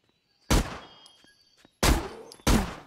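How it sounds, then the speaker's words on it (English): Three sharp gunshots from a firearm in the Zompiercer game, one shot followed by a pause and then two more in quicker succession, each loud and abrupt with a short decaying tail. "Three shots."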